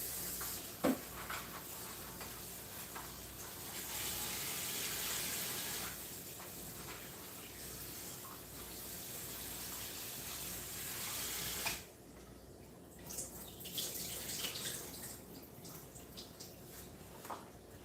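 Water runs steadily from a kitchen tap, washing the ice off a half bag of frozen fungi, a continuous splashing flow that softens and changes tone partway through as the stream shifts.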